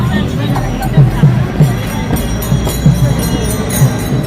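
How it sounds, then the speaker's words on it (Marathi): Dense crowd of pilgrims in the Sant Dnyaneshwar palkhi procession on the Pandharpur wari, a steady murmur of many voices with low rumbling and occasional louder bursts, people talking throughout. "बघ किती गर्दी आहे."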